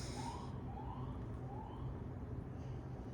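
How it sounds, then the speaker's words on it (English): Emergency vehicle sirens at night around 2 a.m., a faint rising wail repeating a few times over a steady low rumble of distant traffic. "Did you hear those sirens?"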